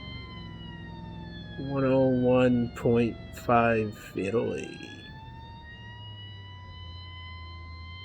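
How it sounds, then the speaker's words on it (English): Police car siren in the BeamNG driving game, a thin steady wailing tone running through the whole stretch while someone talks briefly over it. "Coming in loud and hot with the siren crank whale on"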